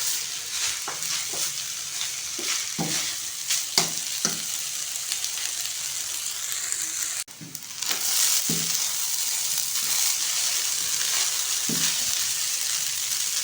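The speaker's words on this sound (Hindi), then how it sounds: "जब ये तमाम चीज़ें अच्छी तरह से मिक्स हो जाए तो फिर हम इसमें एग ऐड कर देंगे।" Egg fried rice sizzles steadily in a hot pan after egg is added, with periodic scraping and stirring strokes cutting through the constant frying hiss, close and moderately loud, no talking.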